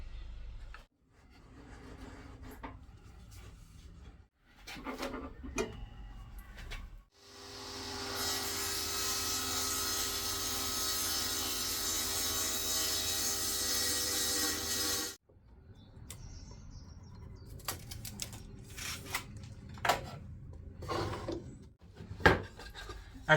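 A saw trims a few millimeters off the edge of a wooden coaster and biscuit tray piece, one steady, fairly loud stretch of sawing lasting about eight seconds, with quiet handling knocks and scrapes before and after.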